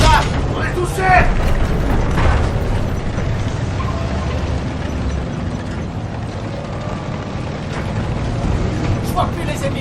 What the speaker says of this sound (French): L'obus n'a pas perforé le blindage! On est touché!